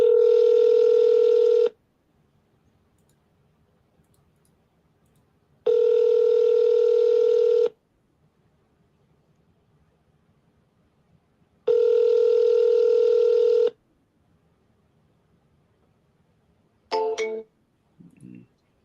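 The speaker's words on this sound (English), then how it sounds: "let me call him one more time" A telephone ringback tone sounds in three long, steady beeps spaced several seconds apart with silence between, followed near the end by a short burst of electronic tones, clear and alone.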